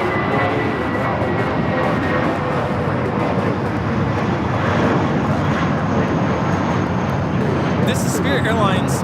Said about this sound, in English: This is Spirit Airlines 754 taking off to New Orleans on the A320